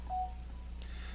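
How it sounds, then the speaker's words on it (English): A mobile phone notification goes off, a brief clear electronic tone followed by a fainter chime, heard indoors at a moderate distance without talk. "And that was my phone, let's ignore that."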